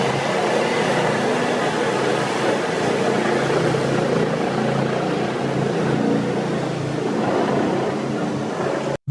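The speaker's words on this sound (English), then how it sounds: "This Boeing 787 had an incredible takeoff in crazy steep" A Boeing 787 climbing steeply on takeoff, heard as a loud, steady, broadband jet roar that holds constant throughout before cutting off abruptly at the end.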